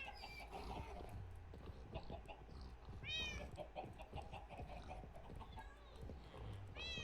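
Cats in the Minecraft video game give a few short, fairly clear meows, one midway and one at the end, over a busy background of other animal and game sounds.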